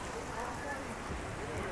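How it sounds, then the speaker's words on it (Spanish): Rain falls steadily in the town of Apaneca, El Salvador, a continuous broadband patter of drops on surfaces that holds at a moderate level throughout, with a voice faintly audible underneath. "Miren, a pesar de que está lloviendo"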